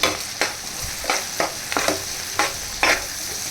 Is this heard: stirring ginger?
yes